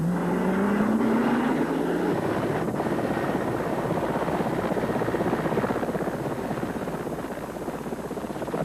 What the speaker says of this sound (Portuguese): Agora é o helicóptero Colibri que levanta voo.